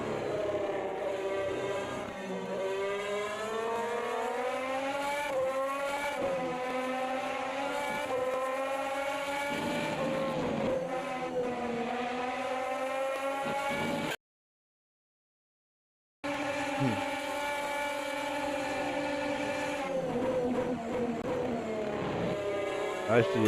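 A Formula 1 race car in a racing game screams past on DRS, its high engine whine rising and falling through repeated gear changes, loud and close, with a brief cut to silence before the engine note returns.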